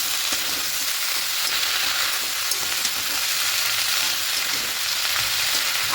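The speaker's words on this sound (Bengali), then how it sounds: "এবার এখানে শাকটা দিয়ে দেবো শাকটা দিয়ে মিশিয়ে নেবো" Bottle gourd greens with mixed vegetables, poppy seed and spices frying in a pan, a loud, steady sizzle running throughout with light stirring underneath, close and continuous with no talking.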